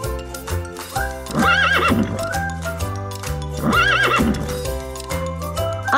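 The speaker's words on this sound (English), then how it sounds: "H for horse." A horse neighs loudly twice with whinnying calls, over steady clip-clop hoofbeats and background music, with no talk.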